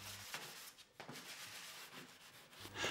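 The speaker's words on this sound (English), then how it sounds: "the filled surfaces are rubbed down until smooth" Dried filler on indoor wooden joinery is rubbed down by hand in soft, uneven strokes, quiet and close, with a few brief pauses between passes.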